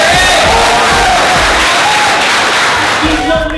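A live audience at a premiere event with actress Ellen Adarna claps loudly and cheers throughout, a dense wash of applause with shouts rising over it. A host's voice can be heard within the noise.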